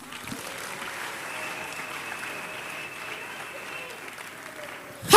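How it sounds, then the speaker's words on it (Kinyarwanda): A church congregation claps throughout, a dense, moderately faint patter over a steady hum, ending in a sudden loud burst. "Tuyikomere amashyi"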